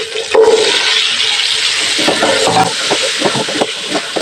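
Vegetables for chicken jalfrezi cook over a high flame in a pan, a loud continuous sizzle and hiss with scraping stir sounds running throughout.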